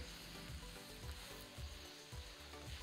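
Methi paratha roasting in peanut oil on a hot pan, a continuous close sizzle and crackle with soft periodic thumps and scrapes as it is pressed and turned, no voices.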